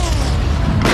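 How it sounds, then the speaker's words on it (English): A tank gun fires a discarding sabot round in a single heavy boom, loud and close, its low blast filling the short moment before a fresh burst of noise at the end. "As the shell leaves the gun barrel"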